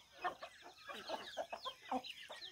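Chickens at a farmstead cluck in short, irregular bursts while pecking at corn, several birds close by and moderately quiet, without speech.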